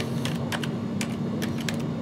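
Quick clusters of keystrokes on a computer keyboard while typing a search, light close clicks in short bursts over a steady low hum.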